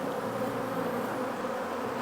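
An aggressive honey bee colony being split three ways fills the air with a dense, loud, unbroken buzz up close, alone without speech.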